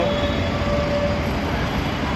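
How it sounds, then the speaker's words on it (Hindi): A metro train in Ahmedabad rumbles past close by, heard from high up, a steady loud roar of wheels and motor with a faint high whine running throughout. "ये देखिए दोस्तों, ये मेट्रो आ रही है।"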